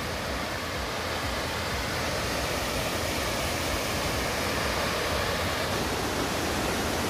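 Falling water roars at the 7 Quedas waterfall viewpoint, a dense, unbroken broadband rush that holds steady and moderately distant throughout, with no voices.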